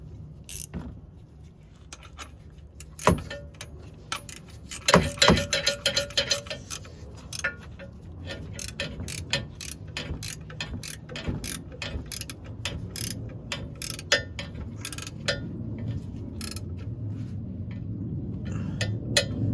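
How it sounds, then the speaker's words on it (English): A 15 mm ratcheting socket wrench tightens the front lower motor mount bolt on a 2008-2012 Ford Escape 3.0L V6, giving bursts of rapid close ratchet clicks between short pauses, with occasional metallic knocks and no talking. "I'm just gonna grab any 15 millimeter and just tighten this down"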